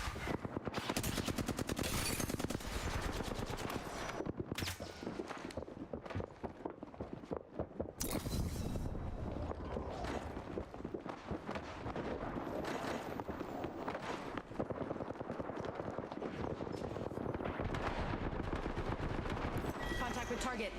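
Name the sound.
gunfire in a video game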